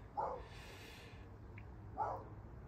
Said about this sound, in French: navré pour le chien qui est en train d'aboyer derrière